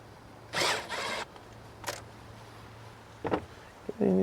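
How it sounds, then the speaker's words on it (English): A small impact driver loosens the air filter housing bolts on a Ford F150 5.0L, giving two short whirring bursts, then a brief zip and a few quieter clicks in a quiet garage. "I'm going to use a little impact here. Just gently take that off."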